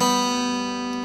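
A single sustained note rings from a requinto guitar playing a song, steady and close, fading only slightly over about a second, with no talking.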